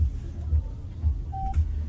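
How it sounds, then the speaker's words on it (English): Toyota bZ4X electric SUV power-on notification: a single short clear electronic beep sounds once in a quiet cabin over low steady background hum. "There's just a notification sound indicating that this is already turned on."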